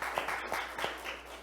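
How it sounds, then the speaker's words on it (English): Scattered clapping from a small group at a family worship gathering, a few hands at a time, fairly quiet and brief, with no one talking over it. "Everybody give him a round of applause."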